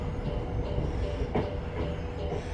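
Passenger train running slowly into Motherwell on a rail tour, a steady loud rumble from inside the carriage with faint wheel clicks and a brief squeal, no talk.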